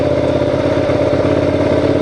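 A motorcycle engine runs steadily in first gear nearby with a low, even, pulsing rumble and no voices.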